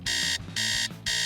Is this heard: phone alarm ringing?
yes